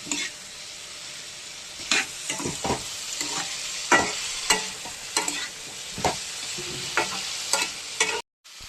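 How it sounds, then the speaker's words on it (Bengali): Tomato pieces sizzle steadily in hot oil with nigella seeds while a spoon stirs and scrapes the pan in irregular strokes. "এবার নেড়ে দেবো হালকা, টমেটমটা এর মধ্যেই ভাজা ভাজা হতে থাক"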